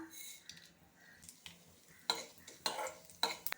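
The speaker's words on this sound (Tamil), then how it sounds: "கடாயில் ஒரு ஸ்பூன் நெய் சேர்த்துடலாம் கடுகு உளுத்தம் பருப்பு வரமிளகாய் சேர்த்துடலாம்" Small bursts of sizzling and crackling from mustard seeds, urad dal and dried red chillies frying in ghee in a kadai, intermittent pops growing louder toward the end, with occasional utensil scrapes.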